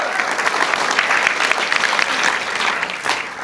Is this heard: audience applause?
yes